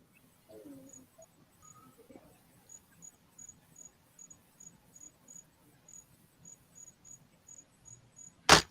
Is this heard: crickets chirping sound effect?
yes